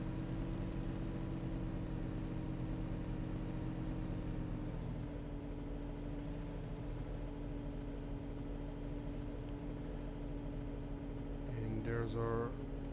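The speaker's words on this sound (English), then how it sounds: "you will hear the pull of the engine there as we hit the hill." Tractor engine in the farming game Cattle & Crops, a steady low drone that holds throughout and strains as it climbs an uphill incline, with a brief higher tonal burst near the end.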